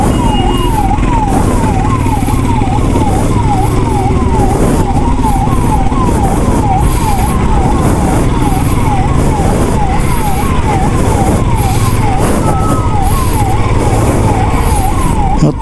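An ambulance siren wails in a traffic jam on a dusty Hyderabad road, its rapid repeating up-and-down tone running steadily for the whole stretch over loud, constant engine and traffic rumble.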